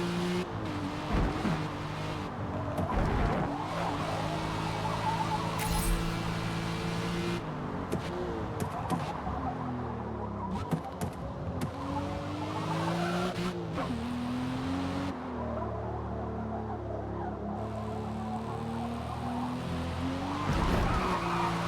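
A Zagato race car laps the Sunset Peninsula track in Forza Motorsport, its engine revving up and down through the gears, with tires squealing and skidding in the corners, heard alone and continuous.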